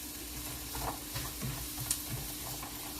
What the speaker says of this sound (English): I'm going to add in the onions to the pan. And then I'm just going to let these cook for a little while.